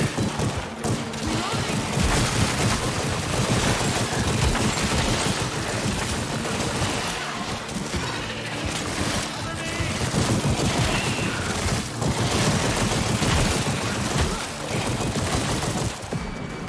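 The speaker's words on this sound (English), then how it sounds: "Shotgun time." Dense, continuous gunfire and explosions from the VR zombie shooter After The Fall, including shotgun blasts in a chaotic firefight that fills the scene at high volume, with voices faintly mixed in.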